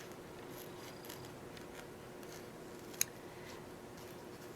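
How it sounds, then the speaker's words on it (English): Curved scissors trim fabric and foam close up, one sharp snip standing out against a quiet, steady background hiss. "My favorite scissors to work with, you'll see how they're curved, so it's going to help me trim. And I'm just going to trim nice and close."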